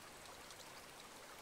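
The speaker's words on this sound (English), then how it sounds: "the water sounds really nice" Flowing water in the background of the Higurashi When They Cry visual novel, a faint, steady rushing hiss like a small stream, continuous and with no voices.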